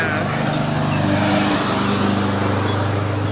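A lawn mower drones steadily in an urban garden in Texas, a loud, continuous engine hum close by, with a voice speaking faintly underneath.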